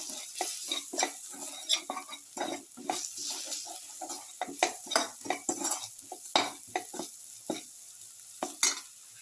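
Squid pieces and bell pepper with spices and salt stirred in a frying pan, a quiet sizzle under repeated sharp scrapes and clinks of a utensil against the pan, with no talk.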